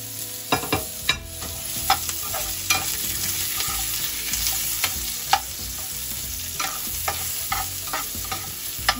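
Onion and zucchini sauté in a hot pan, a steady close sizzle broken by frequent clinks and scrapes of a utensil stirring, with no voices.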